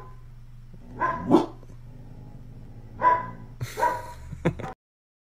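A dog barks close by: a couple of sharp single barks separated by quiet pauses, then a quick cluster of shorter barks before it falls silent.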